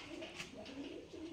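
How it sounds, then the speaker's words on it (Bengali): A male Giribaz pigeon coos softly in a cage, a few low rolling coo notes repeating in quick succession, faint and close amid a light background hiss. "এটা একটা নর কবুতর"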